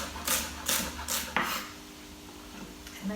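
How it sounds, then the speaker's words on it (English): Knife chopping small bunches of beet green stems on a cutting board for sautéed beet greens: three or four crisp, close cuts in a quick rhythm, followed by quieter board scrapes and clinks. "now we're just going to chop our stems"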